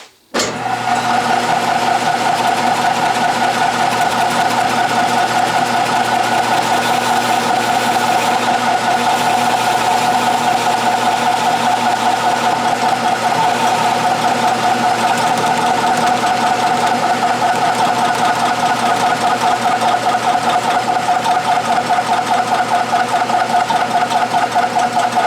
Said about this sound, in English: Boy, that lathe is noisy.